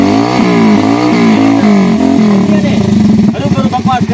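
A motorcycle engine runs close by, its pitch rising and falling as it revs, then settling into a rapid, throbbing idle toward the end, with a voice speaking over it.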